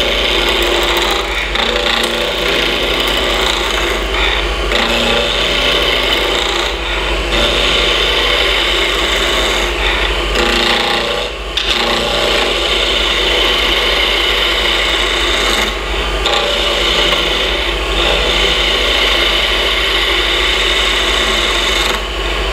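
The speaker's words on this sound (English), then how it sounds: "I'm going to use the skew to bring it down. And I turn the lathe speed up." A wood lathe spins a small bocote hairpin at about 1800 rpm while a skew chisel cuts it down, giving a loud, continuous rasping hiss over a low motor hum, steady throughout with brief dips.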